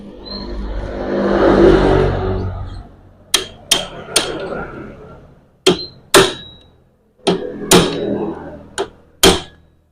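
Hammer blows on a bolt in the kick starter of a Jupiter Z motorcycle used for farm work: a brief low rumble, then about ten sharp, close metallic strikes in irregular clusters, each ringing briefly.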